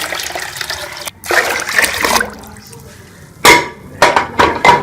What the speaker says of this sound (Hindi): हम इसमें 3 लीटर पानी शामिल कर लेंगे।